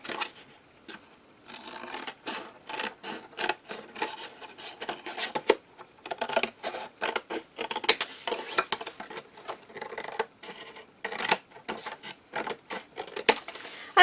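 Scissors snip flaps off a cardboard box, a long run of crisp irregular cuts and rustling paper-board scrapes close by, with no voices.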